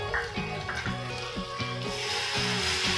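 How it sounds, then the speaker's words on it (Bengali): Water is poured into a frying spice paste for a vegetarian paneer curry, with regular clacking knocks in the pan and a broad watery hiss that grows stronger toward the end. "এখন আমি জল দেব।"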